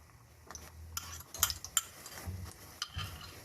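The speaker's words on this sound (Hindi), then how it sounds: "इसमें मैंने ऑयल डाल लिया है, ये गर्म हो गया। अब इसमें जो अंडे मैंने फेंट के रखे थे उसका ऑमलेट बनाने लगी हूँ।" Beaten eggs, yellowed with food colouring, frying into an omelette in hot oil in a pan, with soft sizzling and a few sharp clinks and scrapes of a utensil against the pan, close and fairly quiet.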